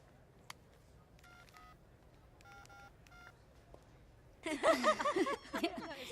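A phone number is dialed on a telephone keypad, with a short series of faint tone beeps in two quick clusters, followed by people talking and laughing loudly nearby.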